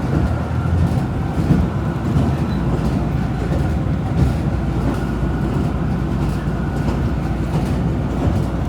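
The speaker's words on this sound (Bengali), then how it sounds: "ঝকঝক ঝকঝক শব্দ হচ্ছে" A Myanmar passenger train rattles along steadily in heavy rain, a dense, continuous rumble and clatter of the carriage heard from inside, with no pauses and no voices.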